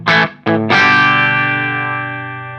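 Electric guitar played through a Zoom 505ii multi-effects pedal on its rhythm overdrive setting: two short clipped strums, then a loud sustained distorted chord that rings out and slowly decays, with no talk.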